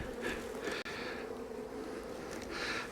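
Honey bees buzz steadily during a fall hive inspection, a faint continuous drone with small swells and no talking.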